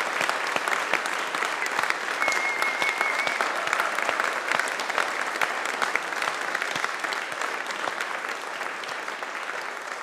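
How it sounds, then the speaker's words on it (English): Congregation at a Sunday morning church service applauding, an even, continuous patter of many hands clapping at moderate volume for about ten seconds. "let's give Mary a huge round of applause for everything she's done"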